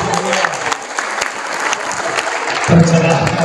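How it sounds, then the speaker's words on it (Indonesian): Audience applause at a Gerindra party gathering in Indonesia, a steady dense clapping that swells louder near the end, with a voice briefly heard over it. "Waduh, tepuk tangan."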